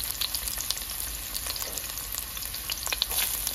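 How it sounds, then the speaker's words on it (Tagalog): Garlic and onion fry in hot oil while being stirred in a pan. Steady, close sizzling and crackling continues throughout, with frequent small scraping taps from the spoon. "haluin ng haluin ang bawang at sibuyas"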